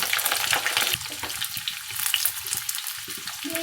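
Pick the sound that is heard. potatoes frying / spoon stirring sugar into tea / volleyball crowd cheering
potatoes frying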